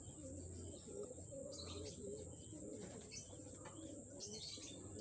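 Pigeons coo in a steady low murmur around the loft as a blue bar pigeon arrives, with scattered chirps and a constant background hiss.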